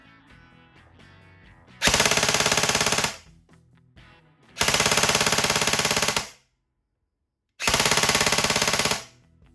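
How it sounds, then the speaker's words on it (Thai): Three rapid full-auto bursts from an E&C 635 S2 airsoft rifle, each lasting over a second of fast, even shots, separated by short pauses with faint mechanical clicks. "ต่อไปเป็นออโต้ครับ ยิงเป็นชุด"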